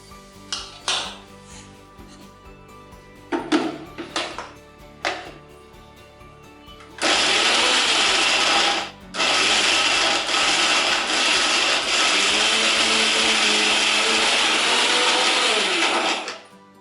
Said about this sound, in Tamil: தேங்காய் போட்டு நைஸாக அடிச்சுக்கலாம்